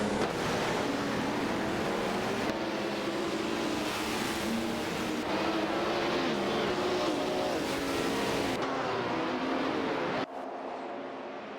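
Race cars in a video game, a Ferrari 312PB and a Renault Alpine 442B, roaring continuously with engine pitches rising and falling as they run close together, loud and sustained before dropping off abruptly near the end.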